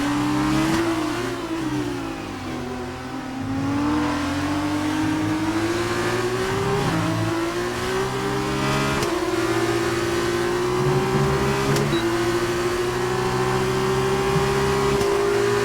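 F1 race car engine in the F1 2019 racing game, a high, loud continuous whine that climbs in pitch through repeated upshifts, each gear change a brief dip before rising again, steady throughout with no talk.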